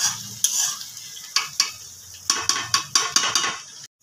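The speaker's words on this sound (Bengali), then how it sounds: "মশলাটা কষানো হচ্ছে।" Spice paste for chicken curry is stir-fried in a pan, making a soft sizzle under a run of sharp spatula scrapes and knocks against the metal that come in quick bursts, close and fairly quiet.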